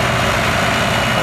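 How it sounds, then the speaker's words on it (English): A vintage tractor engine, among them a 1968 International 1256, runs with a steady low rumble during an outdoor tractor parade, loud and close throughout with no talk. "we're going to get a little tractor parade action here"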